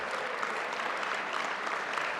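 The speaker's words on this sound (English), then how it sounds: "I feel like we need a round of applause just for this beautiful setup" Steady applause from an audience gathered at an outdoor main-stage Plaza of Honour induction ceremony for the Saskatchewan Roughriders, a dense even wash of clapping at moderate level with no voices over it.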